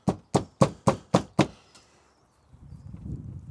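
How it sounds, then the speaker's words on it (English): Six sharp, evenly spaced knocks as plastic grille clips are tapped into a new grille on a Range Rover L405, loud and close, then quiet with faint rustling handling noise afterward. "Push them in and knock the tops in."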